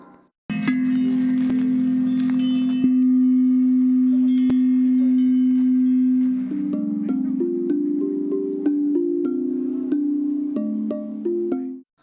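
A six-foot rectangular humming stone gives a sustained resonant hum with rich overtones, holding one pitch and then shifting between a few nearby tones, with occasional soft taps; no voices.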